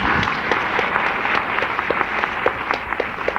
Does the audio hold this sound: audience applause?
yes